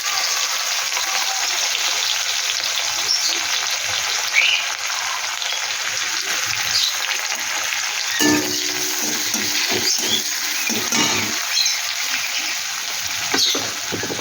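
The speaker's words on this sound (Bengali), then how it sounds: "এই তেলের ভিতরেই আমি দিয়ে দেব পেঁয়াজ।" A large chopped onion hits hot oil in a pan, giving a steady, loud sizzle and crackle that runs throughout, with brief bursts of spattering near the middle and no talking.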